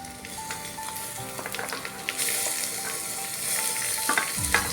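Tomatoes being added and fried for Maharashtrian masala rice, a steady close sizzle with scattered stirring scrapes and a few louder spoon knocks as the pieces go in.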